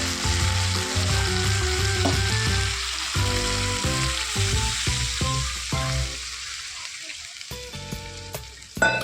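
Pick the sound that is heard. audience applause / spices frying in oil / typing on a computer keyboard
spices frying in oil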